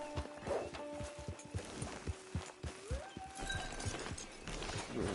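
Horse hooves clip-clopping at a steady walking pace out on open range near a camp, rhythmic thuds over a busy outdoor background with a faint whinny-like tone.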